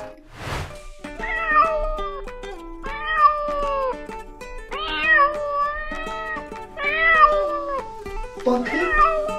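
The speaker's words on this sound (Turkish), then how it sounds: "Bakın, çatıda bir kedi kalmış, bacanın üstünde oturuyor." A cartoon cat stuck on a roof, sitting atop a chimney, gives about five drawn-out meows in close succession, each a clear, rising and falling call, loud and near.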